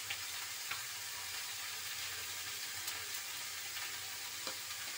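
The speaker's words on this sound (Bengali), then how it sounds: "লবণ হলুদের সাথে সব মিশিয়ে নেব।" Mixed vegetable curry seasoned with salt and turmeric being stirred in a pan, a steady soft sizzle with faint scrapes and clicks of the spoon, quiet and continuous.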